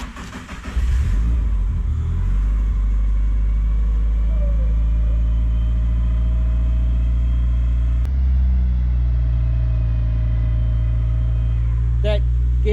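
A hot-wired Datsun 1600 fitted with an SR20DET engine catches and settles into a loud, steady running rumble close by, with a brief rev near the end and voices talking over it at times.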